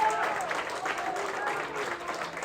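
A church congregation claps together in a steady, moderately loud round of applause that keeps going through the whole clip.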